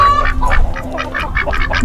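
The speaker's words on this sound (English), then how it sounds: "here's our ducky babies, who will be mommy and daddy very soon" Young ducks in a backyard flock quack and honk in a loud, close, continuous chorus of overlapping calls.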